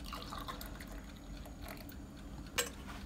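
Water poured into a container for coffee in a home kitchen, a soft continuous liquid trickle and fill with faint drips, quiet and close, with a brief clink near the end.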